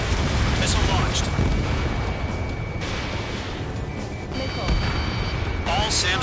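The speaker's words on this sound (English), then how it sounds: "Missile launched." Missile launches and distant explosions in the flight combat game Ace Combat 7, flown in an F-2A against anti-air guns and SAM sites, a steady rumbling roar with muffled booms under radio chatter.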